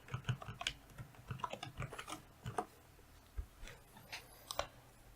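Rapid typing on a computer keyboard: irregular runs of crisp, close key clicks that pause briefly and then resume, with no talking.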